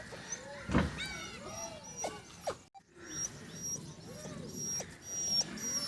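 Small puppies on a village street giving high thin whimpers and yelps in scattered bursts, fairly faint among outdoor background noise.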